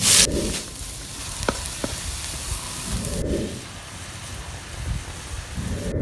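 Leafy wild greens (jongla and dekeria shak) dropped into hot oil with browned garlic, giving a loud burst of sizzling that settles into a steady crackling hiss, with further surges of spitting as the greens are stirred.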